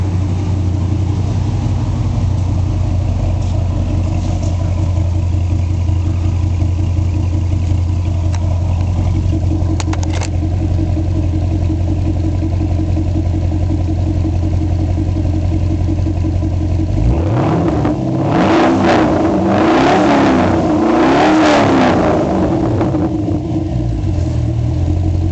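A 2004 Pontiac GTO with an automatic transmission idles with a deep, steady low rumble for most of the run, then is revved several times in quick rising and falling bursts near the end, loud and close.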